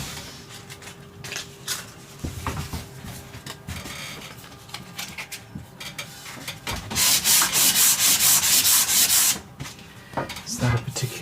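Sanding the wooden body of a bass guitar in a luthier's workshop, with rhythmic rubbing and scratching strokes that build into a louder, sustained burst of sanding near the end.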